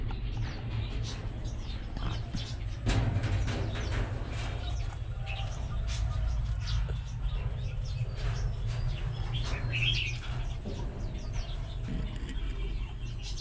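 Khướu khoang cổ babbler nestlings call from a nest inside an aviary, thin chirps and tweets scattered over a steady low hum, with several faint calls close by and no one speaking.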